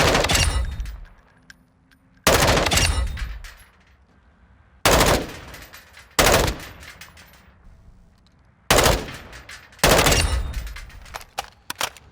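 An M4 rifle fires at mannequin targets in six loud, close bursts of rapid shots, each followed by a ringing decay before the next burst.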